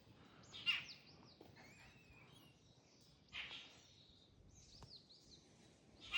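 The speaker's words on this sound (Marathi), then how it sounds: "मस्त किलबिलाट ऐकू येऊन राहिला पक्ष्यांचा." Birds chirp in a forest near the Chausaleshwar Mahadev temple at Chausala, Yavatmal, with faint, scattered calls and a few slightly louder bursts over a quiet background.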